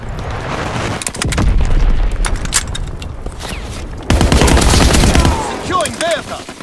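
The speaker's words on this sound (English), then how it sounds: "Enemy bomb incoming! Get to cover!" In Call of Duty WW2, bursts of gunfire and heavy booms from bombing erupt close and loud, with rapid rattling shots throughout and a strong blast near the middle, and a voice calling out briefly near the end.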